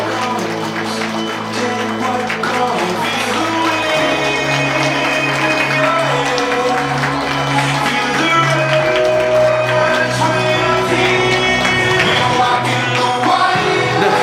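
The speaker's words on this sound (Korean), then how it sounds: "네, 신하님께 큰 박수 한번 부탁드리도록 하겠습니다." Wedding guests applauding the groom's entrance, sustained dense clapping filling the hall with cheering voices mixed in, loud and steady over music.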